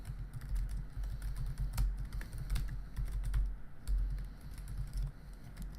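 Fingers type an email on a computer keyboard, the keys clicking steadily and fairly softly over a low background hum.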